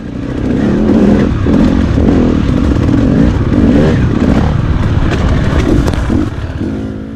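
Yamaha WR250F four-stroke dirt bike ridden around a sandy course with berms, its engine droning loud and close throughout with rising and falling revs and some clatter.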